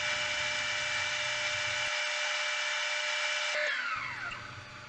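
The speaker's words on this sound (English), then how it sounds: "I sand it to 500 grit and touch up the pattern" A maple bowl spinning on a wood lathe is sanded with a steady high whine and hiss, cutting out briefly twice and resuming, then the tone winds down as the lathe slows at the end.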